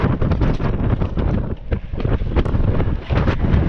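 Steady wind buffeting the microphone on a mountain hike route to Otis Peak near Andrews Glacier in winter, a loud broadband rumble with gusty surges and dips throughout, no voices.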